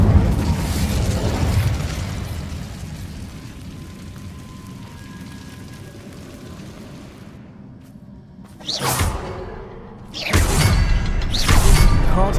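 Incendio fire spell cast in Hogwarts Legacy: after a low rumbling ambience and a brief lull, sharp whooshing fiery bursts erupt twice, loud and close, the second flaring longer, with no talking.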